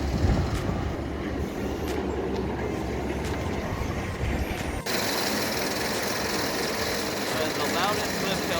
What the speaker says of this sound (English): That is the loudest lift hill I've ever heard in my life.